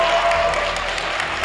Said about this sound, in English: Huge round of applause from his fans.